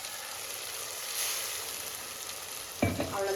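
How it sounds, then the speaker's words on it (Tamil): Ground tomato paste sautéing in a pan, a soft continuous hiss and low sizzle, then a brief clatter of stirring near the end, fairly quiet with no talking. "இப்போ தக்காளி கொஞ்ச நேரம் வதங்கட்டும்."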